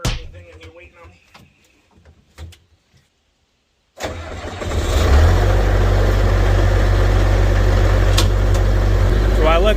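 An old vehicle sits quietly with a few faint knocks and rustles, then its engine cranks, catches and settles into a loud, steady warm-up idle with a deep rumble that runs to the end.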